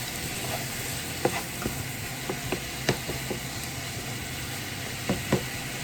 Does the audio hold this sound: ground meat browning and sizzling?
yes